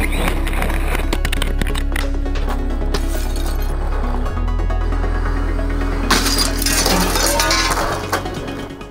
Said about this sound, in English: First off, crashing into glass.